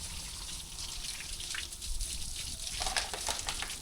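Water sprays onto a Mahindra Yuvo Tech Plus 585 4WD tractor during a wash, a steady close hiss and splatter that thickens and grows louder partway through, with no voices.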